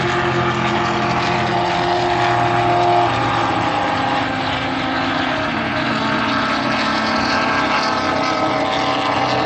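Race cars at an SCCA race, a continuous loud roar of several engines with droning tones, steady and unbroken throughout.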